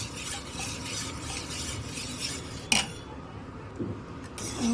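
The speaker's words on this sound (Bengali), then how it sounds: "এবার ভালো করে মিশিয়ে দিচ্ছি।" A spoon stirs cooled milk mixed with dahi culture in a bowl, making soft continuous swishing and scraping up close, with one sharper clink against the side partway through.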